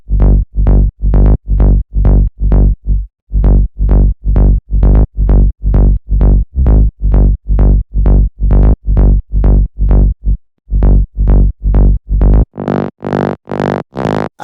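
Rolling synth bass line from the Bass for Mind sample pack preset for a minimal bass track: rapid, evenly repeating plucked low notes, loud and dry, with a brief gap and a brighter swelling texture near the end, no talking.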